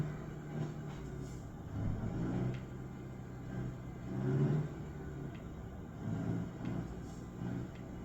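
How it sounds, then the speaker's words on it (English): A train passing in the American Truck Simulator game gives a faint, low rolling rumble that swells and fades in several soft surges, with no speech over it. "Hey, there's a train coming."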